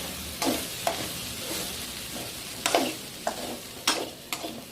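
Leftover idli is tossed with sautéed tomato and onion in a pan: a quiet sizzle broken by a series of sharp, irregular spatula scrapes and knocks against the pan.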